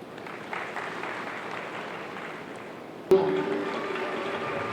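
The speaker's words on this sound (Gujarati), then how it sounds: "એકવાર તાળીઓનો જોરદાર ગણગડાટ થઈ જાય" A crowd at a school tree-planting ceremony claps steadily, and the applause swells louder partway through and keeps going.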